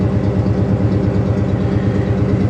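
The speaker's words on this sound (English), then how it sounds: "it's still idling high. It's still in the cold start." A 1995 Ford F-150 pickup engine with long-tube headers idles fast and loud on cold start up close, a rapid, steady low throb with no voices over it.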